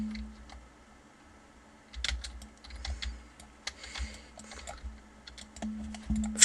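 Rapid computer keyboard typing during a pistol-only Rivals game, bursts of sharp clicks and clacks in uneven clusters, close and fairly loud over a steady low hum.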